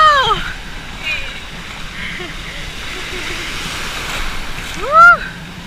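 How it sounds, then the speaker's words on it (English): Ocean waves wash and break at a summer beach on the Gold Coast, Australia, a steady surf rush under excited voices with a brief loud splash near the end. "Wait, look at the waves."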